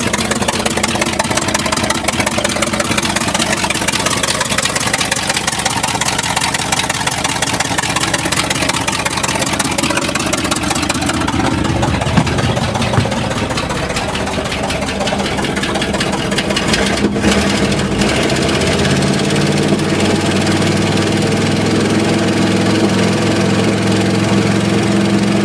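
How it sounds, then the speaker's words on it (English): A 1978 International Loadstar school bus engine runs at idle with a loud, rough, steady rumble close by, and the tone grows deeper and more uneven later on. "The Berryman's is working now because it's still running at idle."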